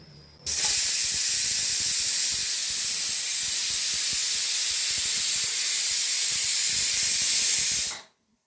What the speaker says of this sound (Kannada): ಒಂದು ಕೂಗಿದೆ. ಸೊ ಇವಾಗ ಆಫ್ ಮಾಡ್ತೀನಿ. ಈಗ ನೋಡಿ ಇದು ವಿಷಲ್ ಹೋಗಿದೆ.